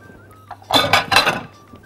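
Squash salad with parsley and red onion tossed in a bowl, a short burst of clinking and scraping from utensils against the dish, close and fairly loud, lasting under a second.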